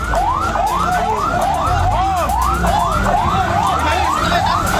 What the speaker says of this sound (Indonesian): Empat unit mobil pemadam kebakaran bersama bantuan tangki air dari PMI dan BPBD dikerahkan ke lokasi.